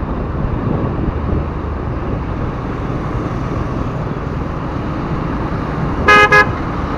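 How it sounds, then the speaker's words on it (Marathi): A four-wheeler car horn fitted on a two-wheeler gives two quick loud toots near the end, cutting over steady traffic and engine rumble on the road. "वरून 4 व्हीलरचा हॉर्न लावलाय"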